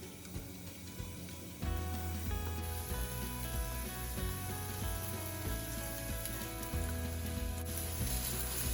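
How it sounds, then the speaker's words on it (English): Sliced onion frying in canola oil in a pot over low to medium heat, with a steady, close sizzle that swells after a quiet start and carries on alone. "Now I'll stir everything around and make sure the canola oil is evenly distributed"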